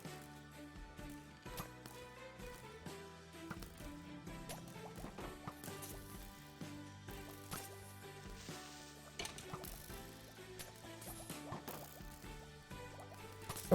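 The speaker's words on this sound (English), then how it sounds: "You could also use water to move mobs." Water from the Minecraft video game flows and burbles with soft liquid trickles and drips, heard quietly beneath a busy, tonal background of game music.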